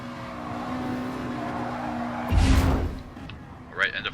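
Race cars engines droning on the Nürburgring GP circuit in a sim racing game, a steady mid-level roar with a brief louder burst of tire or engine noise, under a commentator's talk.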